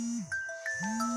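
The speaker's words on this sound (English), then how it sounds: "That's my alarm clock for my virtual hiring." A melodic electronic alarm clock rings near and clear, its tones sliding and stepping through a short chiming pattern with no talk.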